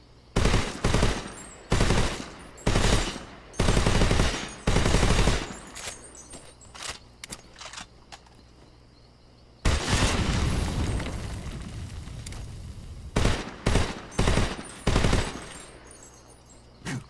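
Assault rifle gunfire from the video game Metal Gear Solid 3: Snake Eater comes in loud, repeated short bursts, then one long sustained volley, followed by several more quick bursts with brief pauses between them.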